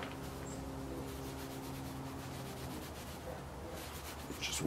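A rag wiping WD-40 and oil residue off a freshly forged steel bottle opener makes a steady, soft rubbing scrape close by, running continuously over a low background hum.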